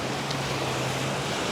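Surf rolls in steadily at a Playacar beach in Playa del Carmen on a rough, windy red-flag day with muddy water, a broad continuous wash of waves mixed with wind buffeting the microphone.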